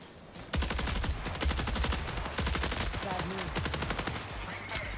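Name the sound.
weak weapon gunfire in the video game Marathon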